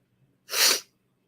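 One sharp human sneeze bursts out close and loud, alone against a quiet background during a live podcast hangout.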